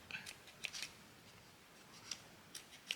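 Scissors trim paper for a no-sew journal binding, with a few short, crisp snips scattered across a quiet room and no talk.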